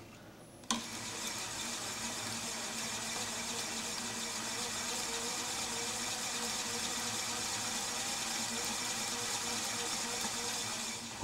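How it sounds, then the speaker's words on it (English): Fishing line backing being wound onto a reel through a Berkley spooling station, a steady continuous whirring hum that starts abruptly and runs evenly to the end, fairly loud and close, with no talk. "So anyways, you start spooling your line up."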